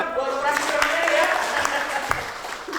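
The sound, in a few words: audience applause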